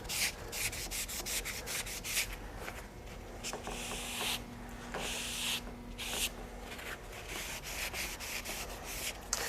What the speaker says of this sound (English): going to wipe it dry